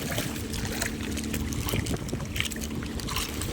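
A fishing boat's engine runs slowly at sea during net fishing, holding a steady low drone with wind and water noise around it and no talk.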